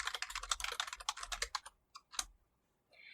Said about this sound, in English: I type 3 double quotes, and then I'm going to type Shabby Abby v1